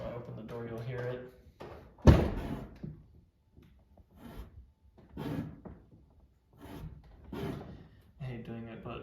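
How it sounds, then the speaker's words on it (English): A Shelby GT350 car door rubbing somewhere inside as it opens, a single sharp thud and scrape near the middle, with someone talking before and after. "It's rubbing like somewhere inside there."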